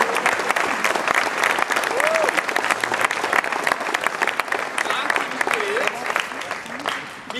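Sustained, dense applause from a concert audience, loud and continuous for several seconds before easing slightly at the end, with voices audible beneath the clapping.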